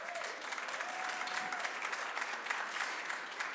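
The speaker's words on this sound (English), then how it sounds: "That round of applause for that one." A committee meeting audience breaks into sustained, even applause, a dense wash of clapping at moderate distance with no talk over it.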